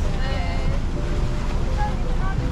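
A catamaran sails on the open sea off Santorini at sunset, steady wind rush and wave wash filling the sound up close, with people's voices faintly mixed in.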